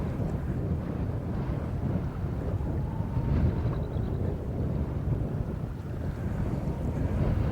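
A strong wind blows over the Rio Grande river in Argentina, buffeting the microphone with a continuous roaring rumble that rises and falls through the whole stretch, and nothing else is heard.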